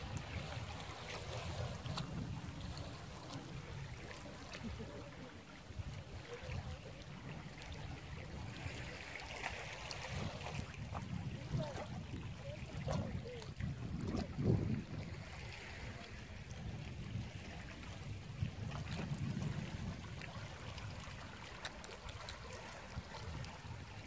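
Waves slap and wash against a boat hull at sunset, a steady churning surge with wind noise, near and continuous with no talk.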